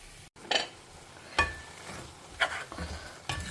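Spinach sautés in a pan for ghee dal palak, with four distinct stirring scrapes about a second apart over a soft background sizzle, heard close up and with no talking.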